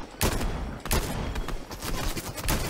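Rapid bursts of gunfire from a Fortnite match, several loud volleys with short gaps between them, close and dense with no talk over them.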